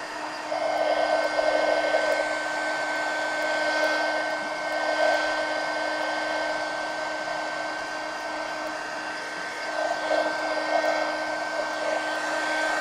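A heat tool blows a steady whirring, airy hiss while drying a wet mixed media collage pumpkin, running continuously with slight swells in loudness and no talk over it.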